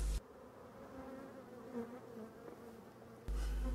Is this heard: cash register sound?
no